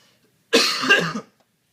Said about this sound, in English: It's like the 7th time I've coughed.